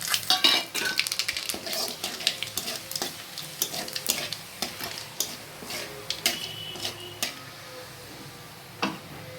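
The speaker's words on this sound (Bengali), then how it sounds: "তেল গরম আছে আমি প্রথমে কালো জিরে আর দুটো শুকনো লঙ্কা ফোড়ন দিয়ে নিচ্ছি" Black cumin seeds and two dried red chillies tempering in hot oil, a dense close crackle of sharp pops and spits over a steady sizzle, with a few utensil taps and no talking.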